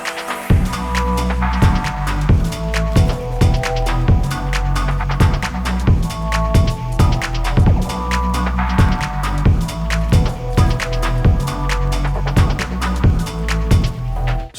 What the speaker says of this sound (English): in this video I'm gonna show you a small ambient garage track idea that I made.